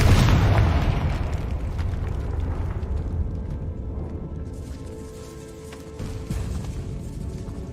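Confringo spell blast in the Hogwarts Legacy video game, set in a decaying catacomb: a loud, deep boom at the start that rolls into a long, fading rumble with scattered debris crackles.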